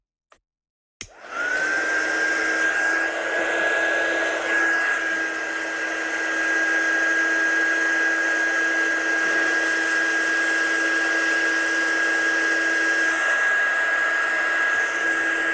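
A hair dryer blows steadily and close by, drying watercolour and ink on a stamped, embossed card, with a constant whirring hum that starts abruptly after a click and runs without pause.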